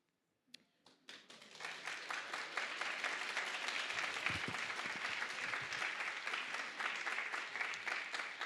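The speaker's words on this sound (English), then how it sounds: "And as you have just done, clapping is allowed." Audience applause at an undergraduate awards ceremony, starting with a few scattered claps and quickly building into sustained, dense clapping that stays steady to the end.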